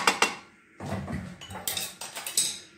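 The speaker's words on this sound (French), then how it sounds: "On va commencer à remplir les aubergines. Voilà. Prendre une cuillère." A metal spoon clinks and scrapes against a dish while stuffing is spooned into aubergines, a few sharp taps followed by soft scooping and clatter, close by.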